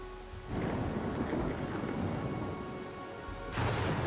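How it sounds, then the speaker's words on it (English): A video game thunderstorm in Pathfinder: Kingmaker, with heavy rain hissing steadily and thunder rumbling loudly, then a fresh sharp crack of thunder near the end, with no voices. "Watch the storm."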